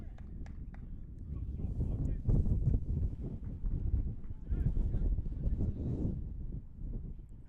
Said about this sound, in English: The wind gusting through here in the 4th.